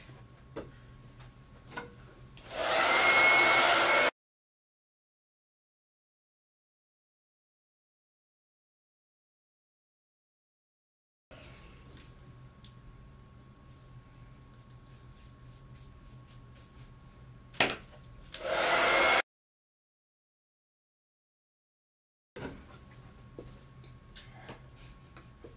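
A hair dryer blasts in two short bursts of steady, close whooshing, drying Dixie Belle glaze on a cupboard, with quiet handling noises and gaps of silence around them.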